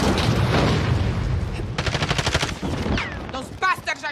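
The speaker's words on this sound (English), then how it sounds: "Those bastards are shooting." Enemy soldiers firing guns in a video game, loud bursts of rapid automatic gunfire with a few single shots and booms, briefly interrupted by a voice.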